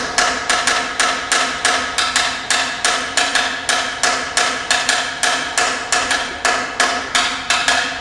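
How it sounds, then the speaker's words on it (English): Brazilian samba clave pattern knocked out on a sharp wooden percussion instrument, a steady looping syncopated rhythm of crisp, close, loud clicks with no other sounds. "in Brazilian music, they have a similar clave,"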